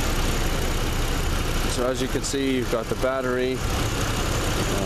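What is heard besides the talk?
GMC Canyon Vortec engine idling under the hood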